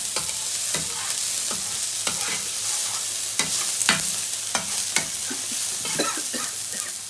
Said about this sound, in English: Okay, guys, I'm just mixing the mince now.